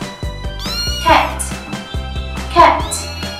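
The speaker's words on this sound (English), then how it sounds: "the other friend is so friendly with humans is a cat" A cat meows twice, clear and close, with harmonic, slightly drawn-out calls spaced about a second and a half apart over a soft background.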